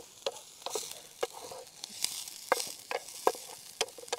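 Onions frying and being stirred in a pan at a rainy night campsite, with crackling sizzle and repeated sharp scrapes of a spoon against the pan, fairly close and without any talk.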